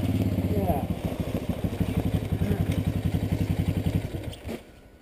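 A quad ATV engine runs in high gear on a woodland ride, a steady close mid-pitched drone with rhythmic pulsing and clatter, easing off near the end as voices talk over it.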